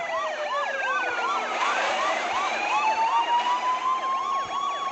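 Several police car sirens from the driving game Car Simulator 2 wail together, overlapping rising and falling tones repeating rapidly, loud and close with a steady engine hum beneath.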